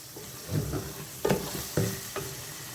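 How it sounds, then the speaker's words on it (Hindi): Eggs and green chillies frying for egg khagina. A soft sizzle runs under occasional scraping and knocking of a spatula against the pan, with a few distinct stirring strokes. "अब मैं इसको थोड़ा और भूनूंगी"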